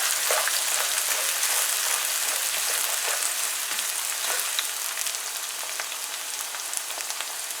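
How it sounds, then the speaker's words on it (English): Onions frying in a pan give a steady, dense crackling sizzle that holds close and even from start to finish, with no voices over it. "Now we're going to fry this for about a minute or so."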